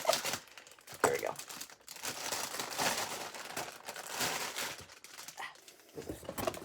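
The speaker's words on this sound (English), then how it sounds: "He just comes in a bag like that. Oh, I hate that crinkle." A crinkly plastic bag holding doll clothes is handled and cut open at close range. Bursts of crumpling and crackling plastic come and go throughout, with soft snips.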